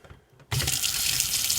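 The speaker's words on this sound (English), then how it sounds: "When you've got a nice flow of water on this tap" A cold tap is opened, and after a brief quiet moment water suddenly gushes into a sink, then keeps flowing in a strong, steady, close stream.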